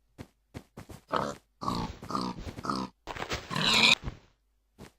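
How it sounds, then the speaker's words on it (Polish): A Minecraft pig grunts in a series of short, close, nasal oinks, with isolated clicks between the calls and no talk. "Opolujemy jeszcze jedną świnię."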